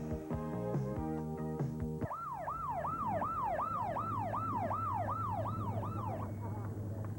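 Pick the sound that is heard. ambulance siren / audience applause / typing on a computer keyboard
ambulance siren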